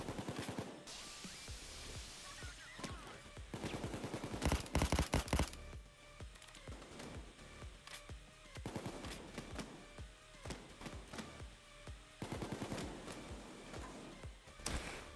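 Pistol fire in a video game rings out as scattered single shots and quick clusters of shots across the stretch, fairly faint overall with no voices on top.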